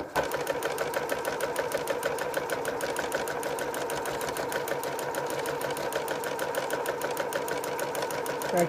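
Sewing machine stitching quilt fabric for a patchwork bowtie quilt, a steady fast mechanical clatter of the needle running continuously at moderate volume, with no talking.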